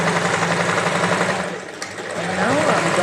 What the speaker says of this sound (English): So now I'm hemming the bottom of the sleeve.